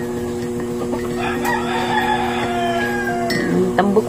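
Chickens cluck steadily while a rooster crows a couple of times nearby, over a constant background hum in a morning yard.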